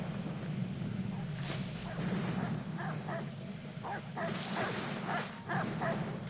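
Dogs bark repeatedly in Assassin's Creed III, short sharp yaps clustered in bursts over a steady low game rumble, with a few louder noise swells in between.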